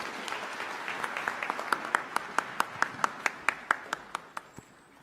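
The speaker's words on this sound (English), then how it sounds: "May we applaud the Chancellor again." An audience at a university graduation ceremony applauds the Chancellor with a run of crisp, evenly spaced claps that swell slightly and then taper off, sounding fairly close in a quiet hall.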